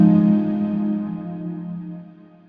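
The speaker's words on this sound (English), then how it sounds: "This will now bypass the delay. We'll still hear the reverb" A sustained guitar synth tone with reverb and the delay bypassed, ringing loud and steady before slowly fading out, its harmonics smeared by a wide reverberant tail.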